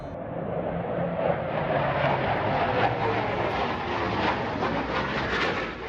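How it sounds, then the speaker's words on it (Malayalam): An Air Force airplane flies fast overhead near a hilltop fort, making a steady, loud broadband roar that holds evenly for several seconds with no voices. "എയർഫോഴ്സിൻ്റെ ഒരു വിമാനം അതിവേഗം പറന്നു പോകുന്നു"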